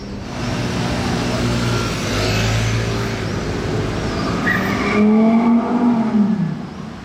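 A powerful V12 supercar engine roars and revs nearby on the Place du Casino in Monaco, its pitch climbing toward the end, with road and tire noise underneath.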